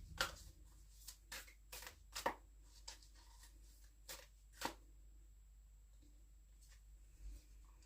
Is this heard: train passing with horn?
no